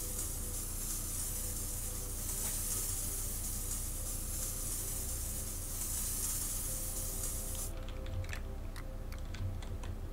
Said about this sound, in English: we'll go to traditional spray paints then